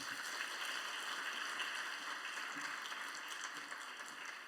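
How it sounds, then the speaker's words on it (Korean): Steady, dense clapping from a church congregation welcoming the pastor at a midweek worship service, faint and distant, sustained evenly throughout. "우리 목사님 나오실 때 환영하는 마음으로 박수로 환영하겠습니다"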